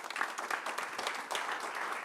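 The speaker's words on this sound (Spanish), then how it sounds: "le pueden dar un aplauso al Señor Jesucristo por todas las oportunidades que Él nos quiere dar" A church congregation applauds in a steady wash of many hands clapping together, heard at a moderate distance with no break.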